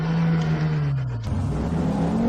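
A car engine drones close by, with a whir that dips in pitch as the vehicle rolls in and then swells again; the sound is steady and moderately loud, with no talking.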